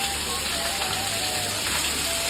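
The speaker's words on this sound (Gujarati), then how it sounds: "ફૂલ વરસાદ ચાલુ છે" Heavy monsoon rain pours down in a dense, continuous hiss, steady and enveloping, with no voices over it.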